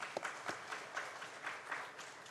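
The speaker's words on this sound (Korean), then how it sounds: "이분한테 우리 박수 치겠습니다" A church congregation at a Friday late-night service claps for its long-serving teachers, a soft, distant patter of scattered hands with a few sharper claps standing out, no talking on top.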